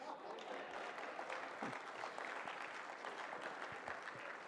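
Audience clapping at a Ramayana festival stage event, a dense continuous wash of applause from a crowd, moderately faint and sustained, with faint voices mixed in.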